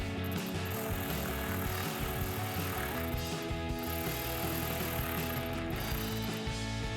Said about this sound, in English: just take your 10mm socket to tighten down the two bolts